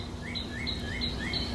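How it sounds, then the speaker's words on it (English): A northern cardinal sings a run of about four clear, rising, slurred whistles in quick, even succession, moderately near, over a faint insect-like hum and soft outdoor background. "That's a northern cardinal."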